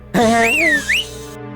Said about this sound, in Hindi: तू क्या हर बात पे सीटी बजाते रहता है?